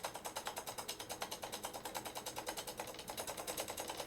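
A homemade no-drag generator runs with a fast, steady mechanical clicking and whirring, its rhythmic ticks quickening slightly, close and moderately quiet with no voices.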